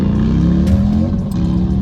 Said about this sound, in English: That motorcycle man just messed up my video.